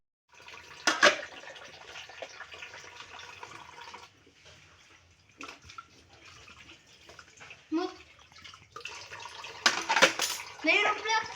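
Dishes and plates being washed: intermittent clinks and clatters of plates with splashes of running water, sparse and close, with brief quiet gaps between bursts.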